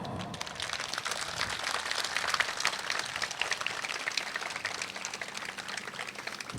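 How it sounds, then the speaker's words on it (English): Sustained applause from an audience at a memorial ceremony for 9/11 in Hayward, a steady dense clatter of clapping that runs evenly throughout without talk over it. "how about a round of applause for her father?"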